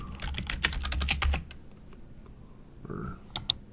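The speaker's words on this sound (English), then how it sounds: "And then we go in here and we type knee." Quick bursts of computer keyboard typing, close and crisp, a flurry of keystrokes followed by a pause and a few scattered taps near the end.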